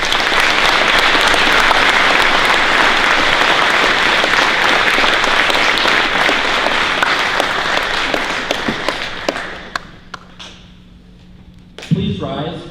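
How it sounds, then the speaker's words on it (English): Sustained crowd applause at a Veterans Day ceremony in Amery, dense and loud for about nine seconds, then thinning into scattered claps and fading near the end. "Please join me in a round of applause as we recognize all those who have answered the call to serve our great country."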